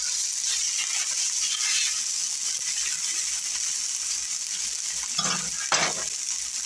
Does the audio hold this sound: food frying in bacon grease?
yes